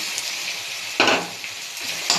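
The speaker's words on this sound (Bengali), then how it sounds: "নারকেল কোড়ানো দিয়ে এটাকেও একটু ভাজা ভাজা করে নেব" Grated coconut frying in a pan with ginger, garlic, onion, tomato, green chilli and cumin powder, a steady soft sizzle broken by a couple of louder scraping stirs.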